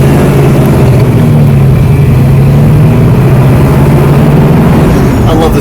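A 1979 Pontiac Trans Am V8 rumbles steadily through its exhaust on a test drive, a deep continuous low drone held at a constant loud level for the whole stretch, with no voices over it.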